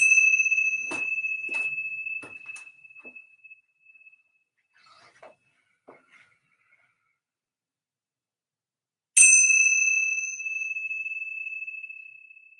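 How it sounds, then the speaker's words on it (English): A bell rings with sharp metallic strikes, one after another, each tone ringing out clearly and slowly fading to silence, with one last strike rising loud and sustained, heard alone in a quiet room during a yoga session. "I'm going to ring these bells 3 times, listening to the start of the bell, and then listening as it slowly diminishes to an end."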